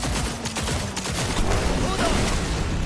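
Rapid gunfire from a weapon in the video game Cyberpunk 2077, a dense continuous burst of shots lasting a few seconds, loud and close with no pauses.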